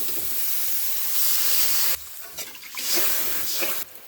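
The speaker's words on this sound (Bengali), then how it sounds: "মশলাটা কষানো হয়ে গেছে এখন জল দিয়ে দেবো" Water poured into a pan of sizzling fried spice paste sets off a loud, broad steamy hiss that surges, drops briefly, then flares again before cutting off abruptly near the end.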